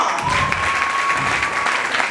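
An audience at a live comedy show breaks into steady, sustained applause, dense clapping filling the room from start to finish at a loud, even level.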